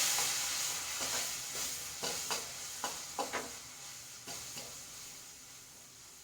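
Beef kondattam sizzling in a pan after vinegar is added, a continuous close hiss with repeated scraping stir strokes at an irregular pace, no voices.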